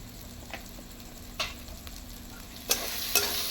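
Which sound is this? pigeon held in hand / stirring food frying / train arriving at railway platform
stirring food frying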